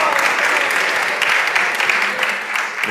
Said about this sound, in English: Clap it up for that, please.